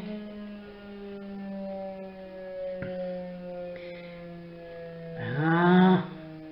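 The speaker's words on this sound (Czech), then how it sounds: "Siréna je v pořádku. Houká, houká." A civil defense siren is sounded during a routine test: a steady, buzzing tone with a strong hum lingers for several seconds before the wail climbs sharply in pitch and swells loudly near the end, with no talking.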